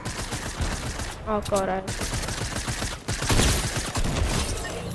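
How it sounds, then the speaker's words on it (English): Rapid bursts of video game gunfire crackle loudly and densely, close and continuous, with a brief gap and a player's short exclamation in the middle. "I heard shots, I'm not dumb."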